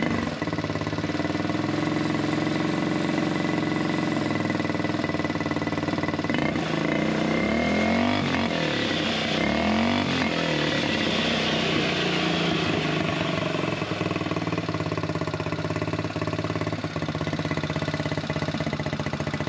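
A buggy engine idles steadily throughout while its carburettor air setting is adjusted, a loud, continuous close-up drone that swells and wavers briefly around the middle, with no talking.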